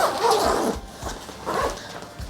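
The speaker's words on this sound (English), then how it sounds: "now let's close this particular zip" A zipper on a camera bag is pulled closed in several short, raspy strokes with brief pauses between them, close and clear, with no talking.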